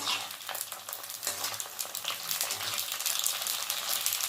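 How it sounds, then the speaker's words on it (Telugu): Store-bought puris deep frying in hot oil for homemade pani puri, giving a loud, continuous sizzle full of crackling bubbles, close and steady throughout with no talking. "ఇలా మనం పూరీ ఫ్రై చేసేసుకోవడమే"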